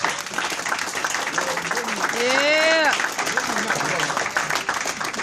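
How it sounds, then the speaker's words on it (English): An audience at a Chicago culture event gives a round of applause, a dense patter of clapping that continues throughout, while a voice rises briefly over it in the middle. "Let's give these brothers a round of applause."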